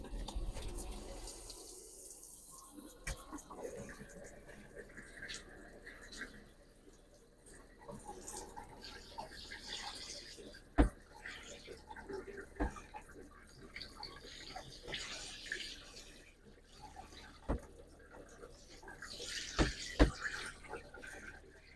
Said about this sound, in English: Being sure to turn on the drain pump when I run water through the shower fixture.